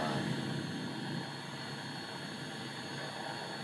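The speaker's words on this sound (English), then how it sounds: "Oh, that was actually a good takeoff." Simulated airplane taking off in the X-Plane 10 flight simulator, a steady broadband engine roar that holds loud and even throughout with no talk.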